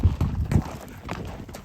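Horses at a ranch clip-clopping along, a quick series of dull hoof thuds close by with no voices.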